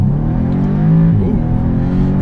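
2015 Audi S3 with 300 horsepower pulling away, a close, loud engine drone that rises briefly in pitch as the car accelerates.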